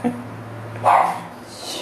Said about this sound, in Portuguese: quando a gente inicia a live, ele quer aparecer também, então ele late